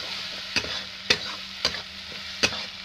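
Eggs fry in a pan under a constant bright sizzle, broken by four sharp scraping stirs of a utensil at roughly even intervals, close and clear with no talking.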